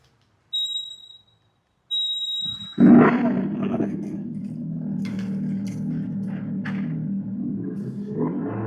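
An electric bike is switched on: two short electronic beeps sound, then its artificial engine noise kicks in with a loud roar and settles into a steady, low humming drone close by.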